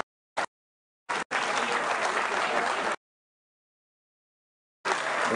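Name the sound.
audience applause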